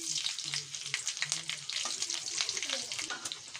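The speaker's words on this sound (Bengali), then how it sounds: "ওই তেলে কালো জিরে দিয়ে দিলাম কটা কাঁচা লঙ্কা দিলাম" Nigella seeds and green chillies hit hot oil, a crackling sizzle full of sharp pops and bursts, with some stirring noise and a faint voice low in the background, close and lively.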